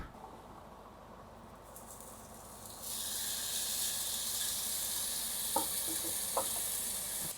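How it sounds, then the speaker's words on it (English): Swordfish steaks sizzle on a hot grill, a steady, loud, close hiss that swells after a quieter opening and carries on, with a couple of brief pops and crackles near the end. "So while our swordfish is cooking on side one"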